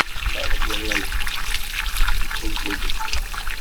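Hot water boils up from underground by the sea, a close burble and trickle of bubbling liquid, with people talking nearby.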